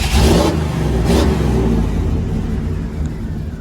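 A car engine with a running fault revs up loudly twice in quick bursts, then settles into a rough, uneven running rumble close by, barely able to idle.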